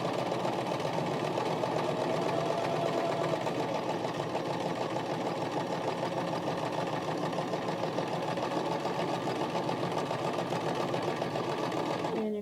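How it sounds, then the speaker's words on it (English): A sewing machine runs steadily while stitching cotton fabric for a face mask, its motor whirring with a fast, even rhythmic clatter that holds close and continuous without a break. "you're going to turn your fabric next direction, and you're going to start sewing again."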